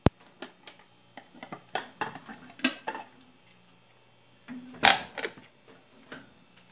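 Metal pot and lid clatter as a pressure cooker holding brown rice is closed, a series of light clinks and scrapes followed by one louder clank, close by and without speech.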